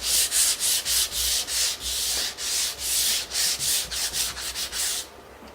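Sandpaper rubbed by hand over painted MDF, a steady rhythmic series of loud, close scratchy strokes, roughly two or three per second, alone without speech, ending abruptly.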